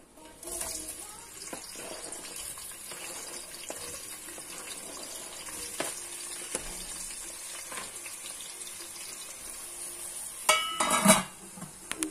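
Onions frying in oil with cardamom, cinnamon and cumin, producing a continuous hiss-like sizzle with occasional soft stirring knocks and a brief louder clatter of utensils near the end.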